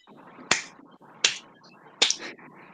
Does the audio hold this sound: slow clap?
yes